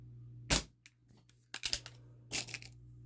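A Ruger Mark IV air pistol fires H&N lead-free pellets: three sharp, close snaps spaced about a second apart, with faint clicks and handling noise in between.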